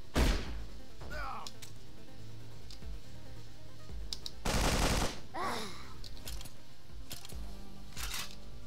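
Enemy shotgun blasts in The Pit, game combat with several sharp, loud broadband shots spaced irregularly, one longer heavy burst in the middle, over a steady background of game noise.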